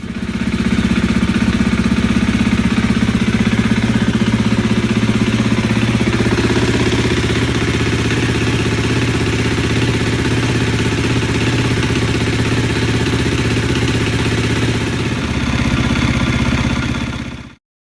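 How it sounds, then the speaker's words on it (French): A 2017/2018 KTM 350 EXC-F motorcycle engine idles steadily while warming up before an oil change, a loud, close, even single-cylinder rumble with a slight dip midway that runs until it cuts off abruptly at the end. "maintenant on va faire chauffer la moto pendant 5 minutes, histoire de fluidifier l'huile"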